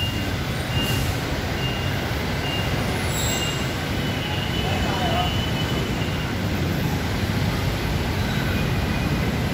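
Steady broadband rumble at LRT Libertad light rail station on a rainy afternoon, a continuous roar of train and rain noise with a brief high squeal, no clear talking.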